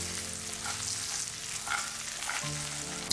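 Fried poha flakes and peanuts tossed together in a hot pan with the flame off, giving a steady dry frying hiss with soft scraping stir strokes, close and alone with no talk.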